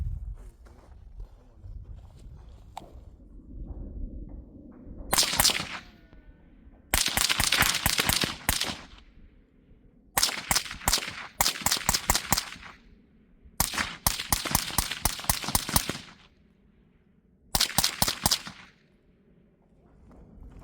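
An AR-15 rifle fitted with a suppressor and a side-charging nickel boron bolt carrier group fires in rapid strings of sharp cracks, several bursts with short pauses between, loud and close over a quiet outdoor background.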